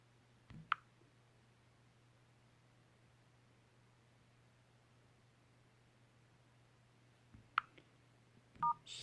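A few brief keypad beeps sound as a code is dialed on a Samsung Galaxy S9 Plus: one early tone, then a short cluster near the end, all faint, over a steady low hum.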